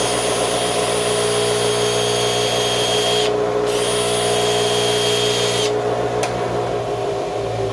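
A stainless steel skillet is held against a Scotch-Brite pad on a running power tool, giving a loud, steady motor whine and rushing scrub with two short dips in pitch as pressure shifts.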